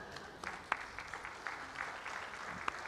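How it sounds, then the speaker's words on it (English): A church congregation claps for a scripture reading, light scattered clapping with a few sharper individual claps standing out against a quiet room. "That deserves a clap because that's a lot of scripture to read"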